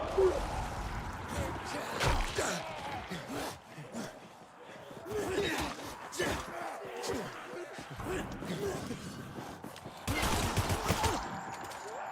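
An SMG in the video game Dying Light 2 fires repeated rapid bursts, with the densest spray near the end, over a constant background of game noise.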